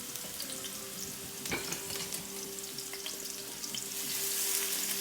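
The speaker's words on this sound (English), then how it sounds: "Now I'm caramelizing my onions." Onions caramelizing in olive oil in a pan for a shrimp tagine give a steady, moderate sizzle with a faint hum underneath and one sharp knock partway through, swelling a little louder near the end.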